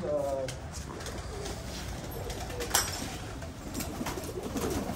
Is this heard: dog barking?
no